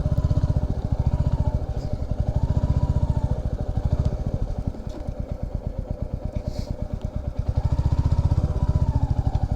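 A motorcycle engine idles and putters close by near a beach parking area, its rapid, regular firing pulses swelling and easing slightly over several seconds with no one talking.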